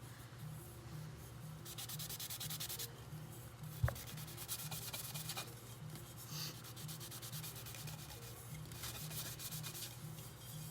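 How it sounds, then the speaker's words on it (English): Sandpaper rubbing the bottom of a glitter-coated, epoxied tumbler in steady back-and-forth strokes, close and fairly quiet, with one brief knock partway through. "We'll sand the bottom."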